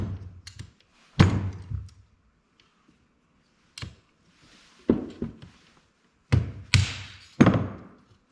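Hammer knocking a small tab off an engine part from a 6.7 Cummins, several sharp metallic thunks in uneven clusters with pauses between, close and loud.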